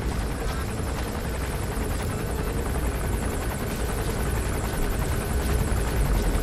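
A helicopter in Metal Gear Solid 5: The Phantom Pain thumps steadily with a continuous rotor chop and engine roar, loud and close, holding without a break.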